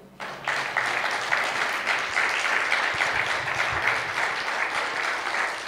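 A church congregation applauds steadily for several seconds, a dense wash of clapping filling a large room, with no voices standing out.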